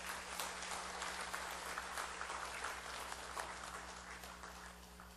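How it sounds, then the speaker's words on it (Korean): Church congregation applauding two children during a Sunday worship service, a steady wash of many hands clapping together that fills the whole room at moderate distance, with no talking over it. "우리 수관 두 어린이 위해서 경례 박수 한번 보내주세요."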